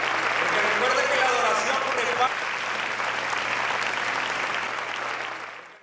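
Congregation of pastors at a 2002 united revival gathering in Honduras applauding and cheering during worship, sustained dense clapping that tapers off toward the end, with voices mixed in.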